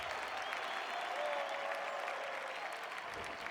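A stadium crowd in the AFL 26 football video game roars and applauds steadily, a dense, even wash of cheering at moderate level throughout with no commentary.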